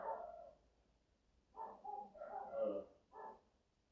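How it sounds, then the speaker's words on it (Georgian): A dog gives a few faint, distant barks and yips, one near the start and then a short run of bursts, with quiet gaps in between. "ძაღლები იყეფებიან"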